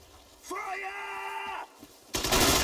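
A voice shouts a command, and then a burst of dense gunfire erupts in a Sudden Strike 4 battle during the Operation Market Garden mission, loud and continuous to the end.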